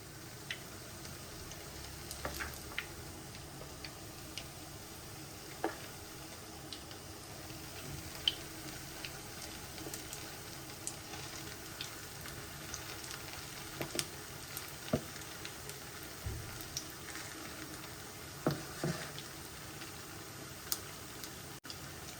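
Gram flour batter pakoras fry in hot oil with a steady low sizzle, broken by faint crackles and small pops, heard close and alone.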